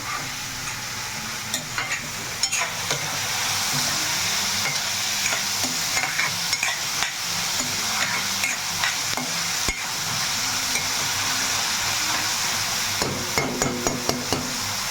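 Curry leaves and green chillies sizzle and spit in hot oil, a loud steady fry with a spoon stirring and scraping the pan in irregular clinks throughout.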